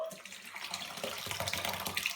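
Liquid is poured into a cloth sleeve while the traditional Ukrainian dish omochka is prepared, a steady splashing, trickling stream running close and continuously without pause.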